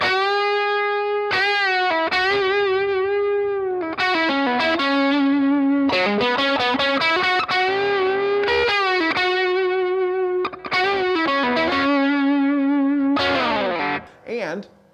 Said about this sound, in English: you get to hear the boost doing what it's supposed to be, which is pushing this little amplifier on into a drive sound